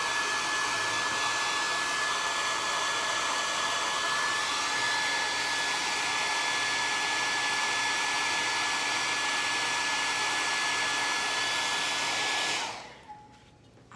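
Hair dryer drying paint on a plaster cup, a loud steady close-up roar with a fixed whine that runs unbroken for about twelve seconds, then cuts off.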